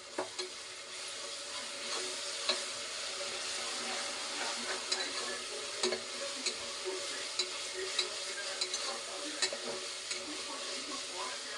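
Ginger garlic paste fries and is stirred in a pressure cooker pot while chicken biryani is prepared, a soft steady sizzle punctuated by scraping stir strokes and light clinks of the spoon against metal.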